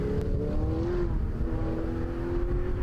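A Ferrari GT race car engine howls steadily at Snetterton in a GT Cup pit stop race, held at a loud, sustained pitch with slight rises and dips as the car slides sideways and regains traction.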